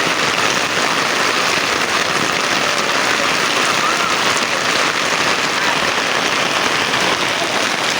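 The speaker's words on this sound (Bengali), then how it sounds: "খুবই বৃষ্টি হচ্ছে," Heavy rain pours down on a city street, a loud, dense and unbroken roar of falling water and surface splashes that fills the whole stretch.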